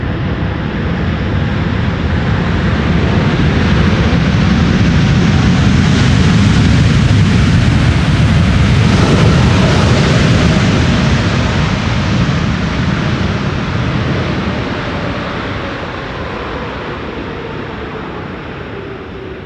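A Boeing 747 jumbo jet landing at Amsterdam Schiphol in a crosswind produces a loud, broad engine roar that swells to a peak near the middle and slowly fades as it passes.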